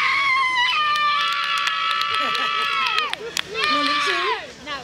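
Studio audience at a live show whoops and cheers loudly for contestant number one, a dense crowd roar with high shouts and screams running through most of the clip, dipping briefly before swelling again.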